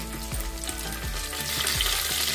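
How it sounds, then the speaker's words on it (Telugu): Fresh mint and coriander frying in a pan for coconut pulav, a steady close sizzle with several soft stirring scrapes, growing slightly louder toward the end. "దాంతో పాటు పుదీనా, కాస్త కొత్తిమీర కూడా వేసి మనం కాస్త ఫ్రై చేసి"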